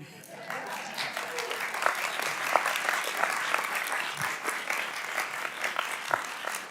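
A crowd applauds steadily in a large hearing room, scattered clapping building to a sustained round at moderate volume, with no voices over it.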